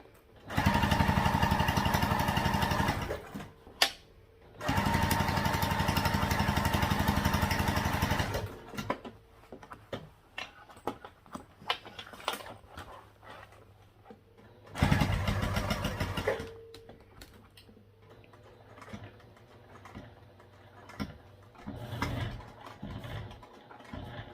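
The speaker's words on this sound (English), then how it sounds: "And we'll just top stitch all the way around." A sewing machine topstitches around a thick crossbody bag strap, its motor whirring in steady bursts of several seconds, separated by quieter pauses filled with handling noise.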